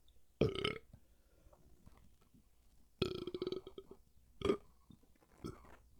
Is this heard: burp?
yes